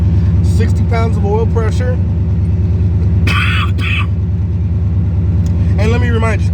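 Used junkyard car engine with 117,000 miles, unopened except for the intake manifold, idling steadily at 1,000 RPM on the fast idle cam, a loud continuous rumble heard close up beneath someone talking.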